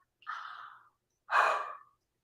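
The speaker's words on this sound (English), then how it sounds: "I swear these yawns just keep on happening to me." A person yawns twice, each a breathy, drawn-out exhalation close to the microphone. The second yawn is louder and ends with a sighing fade, and the room is quiet in between.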